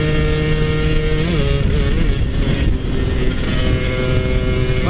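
A two-stroke Satria motorcycle engine with a faulty carburetor runs close by, a loud buzzing drone whose pitch wavers and dips unevenly.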